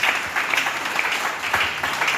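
A church congregation applauds in steady, dense clapping that fills the room and continues without a break.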